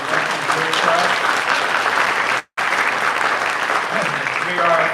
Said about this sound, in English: let's give her a round of applause for the work she's doing for us